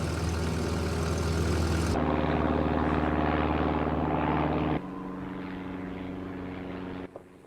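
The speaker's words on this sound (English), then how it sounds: "There's a plane." A propeller airplane drones loudly and steadily, its engine roar dropping in level partway through and again at the end, with no voices.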